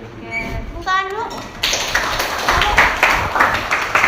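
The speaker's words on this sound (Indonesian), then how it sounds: "Tepuk tangan dulu." Children in a classroom clap their hands together in a burst of dense, close applause that fills the second half, following a stretch of chatter and a raised voice.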